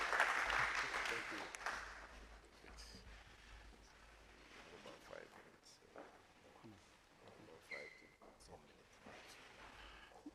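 An audience at a research forum claps for an arriving speaker, a brief burst of applause at the start that fades to scattered claps and room noise.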